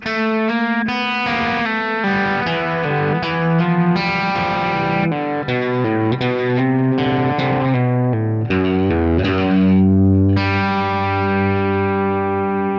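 An electric guitar lick played slowly on an overdriven tone, one note after another, ending on a sustained ringing note.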